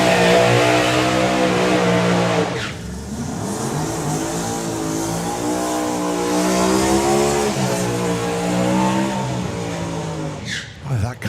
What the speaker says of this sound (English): that car burns out incredibly well as well, doesn't it?